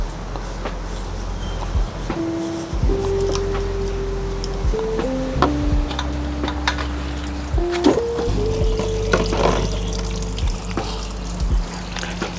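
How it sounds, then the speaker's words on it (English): Coolant pours out of a Triumph Trident 660 radiator after the cap is loosened, a steady liquid stream with trickling and splashing into a catch basin, joined by low mechanical hum and intermittent clinks throughout. "we're gonna loosen the radiator cap, and you'll actually see the coolant drain out much faster now"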